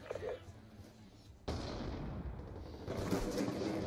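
Gunfire in an online shooter video game: a sharp blast cuts in abruptly and leaves a sustained booming rumble, followed by a second, denser burst near the end, all fairly close and loud.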